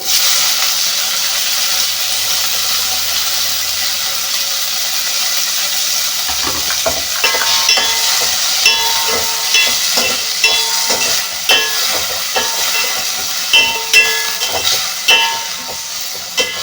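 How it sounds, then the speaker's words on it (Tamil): Tomatoes and shallots sautéing in a pan for a one-pot sambar give a steady sizzle and hiss, with quick, regular stirring scrapes entering partway through and growing more distinct. "தக்காளி போட்டு நல்லா வதக்கி விட்டுக்கோங்க."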